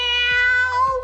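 A voice imitates a cat's meow in a children's story, one drawn-out, close and clear mew of about a second with no other sound.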